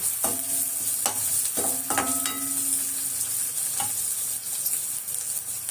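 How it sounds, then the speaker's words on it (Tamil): Onions sauté in a hot pan for an evening snack, a steady sizzle with several distinct scraping strokes of a spatula stirring at irregular intervals, close and clear with no talk. "நல்லா வதங்கட்டும்."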